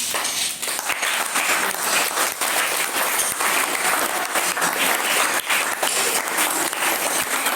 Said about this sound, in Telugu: కర్రలను పాదాల నుంచి తీసుకొని పాటకు అనుగుణంగా చేతులతో చప్పట్లు కొడతారు